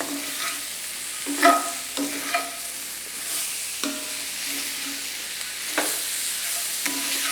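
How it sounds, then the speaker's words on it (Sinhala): Pumpkin pieces being stirred into a tempered mix with peanuts in a pan, a steady sizzle overlaid by repeated spoon scrapes and knocks at an irregular pace, close by with no talking. "ඒක කවලම් කරද්දී පරිස්සමෙන් කවලම් කරන්න නැත්නම් කැඩිලා යන්න පුළුවන්"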